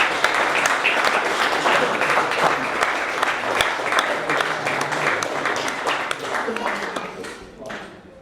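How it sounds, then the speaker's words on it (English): Wedding guests give the couple a big round of applause during the reception speeches, a dense and steady burst of clapping that fades out near the end, with voices mixed in. "we're going to have a huge round of applause for them, Tiff and Luke"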